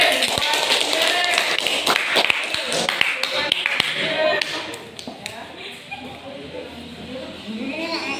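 A classroom of students bursts into applause, a dense burst of claps that fades after a few seconds into voices chattering, with a few scattered taps continuing.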